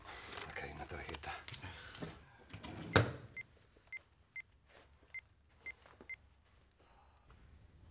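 A telephone number is dialed by hand in an office during an insurance call: after some rustling and a knock, seven evenly spaced keypad tones sound one by one, clear and fairly close.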